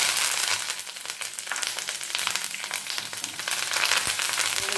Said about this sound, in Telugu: మినప్పప్పు, పచ్చిపప్పు, జీలకర్ర వేగనిద్దాం